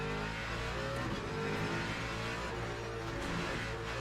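A Ford V8 supercar in a racing video game revs loudly and continuously, a dense engine roar with steady harmonics and no pauses.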